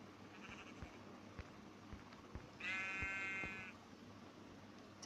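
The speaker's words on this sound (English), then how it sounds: "And a sheep, can you kill it?" A single sheep bleat from the video game Minecraft sounds clearly in the middle of a quiet stretch with light tapping clicks before and after.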